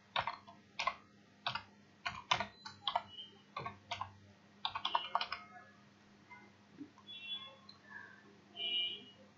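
Computer keyboard typing while entering a channel name for logo design, with a quick burst of close, crisp key taps in uneven clusters that thin out into sparse clicks and faint background sounds.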